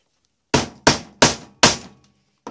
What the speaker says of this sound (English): I'm just going to do a unique style of a rivet there.